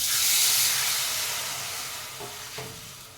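Sour yogurt and gram flour batter poured into a hot pan for kadhi, giving a steady steamy hiss that starts loud and slowly fades, with a couple of faint clinks near the end.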